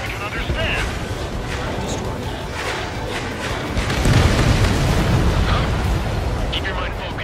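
An enemy transport blows up in the Ace Combat 7 flight combat game, a dense rumbling explosion that swells midway under constant jet and battle noise.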